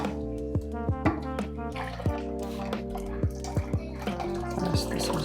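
Ethiopian tella, a homemade beer, drips and trickles through a filter in a steady series of small liquid drops over a sustained low background tone, heard close up with no talking.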